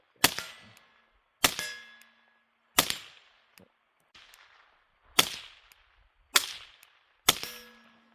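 Seven sharp, muffled cracks come from a suppressed FN Five-seven pistol, fired at irregular intervals of about a second, each followed by a brief ringing decay and a faint metallic ping of the round hitting a steel target.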